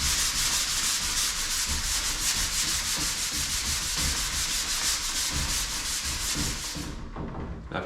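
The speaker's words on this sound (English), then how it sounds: "you would have heard the pitch of the sandpaper changing as it became smooth" Sandpaper rubbed back and forth on wood trim, a dense, loud rasping scrape in steady strokes that continues for about seven seconds before easing off, with no talking.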